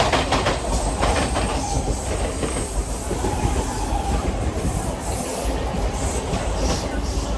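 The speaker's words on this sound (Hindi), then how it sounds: "हम लोगों को सीएसटी ट्रेन मिल चुकी है और शुक्र है कि खाली है।" A Mumbai local train bound for CST rolls along with a fairly empty carriage, giving a loud, continuous rumble with rhythmic wheel clatter and faint metallic squeals close by throughout.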